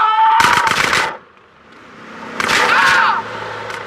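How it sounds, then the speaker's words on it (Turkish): Two bursts of machine-gun fire strafe the player in GTA San Andreas, the first rattling for under a second and the second following shortly after, loud and close. "Oo, bizi tarıyorlar."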